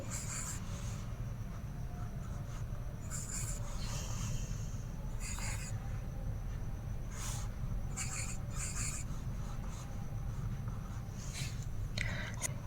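A pen scratches across paper in short, repeated strokes, circling digits in a class 9 statistics exercise, with faint, close scribbles spread over a steady low hum and no speech.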